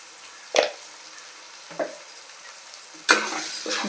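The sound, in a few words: frying with salt and chili powder in a pan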